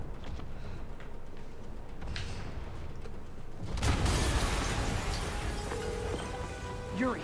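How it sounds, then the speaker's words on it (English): An explosion bursts in the Spider-Man PS4 video game, a sudden loud blast that cuts through a quiet rain-like ambience and trails off into a rumbling, crackling wash. "Yuri, an explosion just..."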